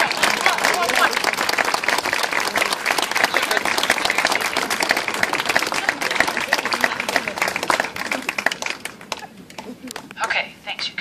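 Sustained applause from a crowd at a marching band camp awards gathering, dense rapid clapping filling the space, loud and continuous before thinning out near the end, with voices mixed in.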